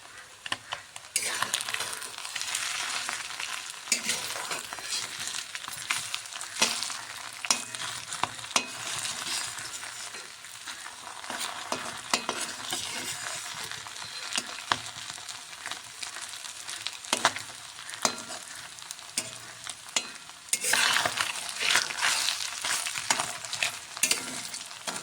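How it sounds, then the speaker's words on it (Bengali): Small puti fish frying in a pan, with a steady close sizzle of hot oil and bursts of scraping and stirring as the pieces are turned, running continuously for the whole stretch without talk. "মাছগুলোকে এবারে উল্টে নেব।"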